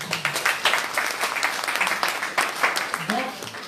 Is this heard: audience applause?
yes